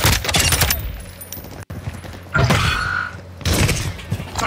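Video game gunfire in a tense hunt: dense bursts of shots and clattering impacts, loud and close, in two main volleys split by a short gap.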